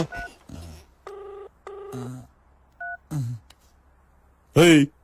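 Telephone number dialing: a series of distinct keypad tones in short bursts, some in quick pairs, with brief spoken voice fragments between them and a louder exclamation at the end.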